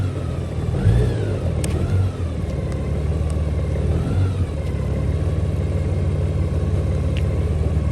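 A 2021 Honda Gold Wing motorcycle easing out of a driveway in first gear, its engine a steady low rumble with light throttle swells, close and continuous with faint wind and road noise.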